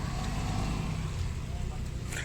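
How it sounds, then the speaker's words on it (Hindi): A Tata Nano drives along a snow-covered road during a Srinagar snowstorm, its engine giving a steady, close low drone mixed with road rumble, with faint voices in the background. "नैनो निकल रही है, वाह टाटा की गाड़ी।"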